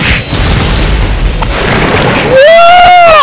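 An all-out attack in the Persona 3 battle lands with a heavy, loud boom, followed by rising and falling tonal game effects as the hit resolves.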